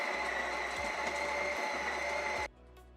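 AMZCHEF touchscreen espresso machine grinding coffee beans at its finest grind setting, 0: a steady loud motor whir with a buzzing rattle that carries for about two and a half seconds, then cuts off abruptly, leaving a faint hum.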